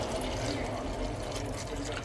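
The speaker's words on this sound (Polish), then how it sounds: "Zalewamy to wszystko wodą." Water pours steadily into a pot of potatoes in a kitchen, a soft continuous splashing fill heard close, with no distinct words over it.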